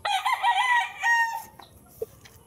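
A game-farm rooster crows loudly and close by in one long harmonic call, followed by a few softer clucks.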